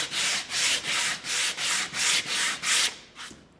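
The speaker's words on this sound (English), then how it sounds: "it just makes it really a painless way to do big sanding" A painted wooden board is hand sanded with a sanding block in about eight even back-and-forth strokes. Each stroke gives a loud, close, gritty rasp, and the last stroke trails off into quiet.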